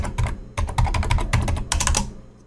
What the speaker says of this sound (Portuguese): vai digitar o seu CPF que você usou lá para fazer o cadastro